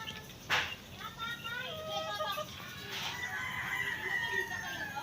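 Hens clucking and cackling nearby in a farmyard, several birds calling irregularly, with people talking over them.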